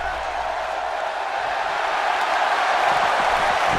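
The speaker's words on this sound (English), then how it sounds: "And the crowd is standing on their feet." A wrestling crowd at a live event cheers and roars in a broad, steady wash that grows a little louder toward the end, with no clear voices picked out.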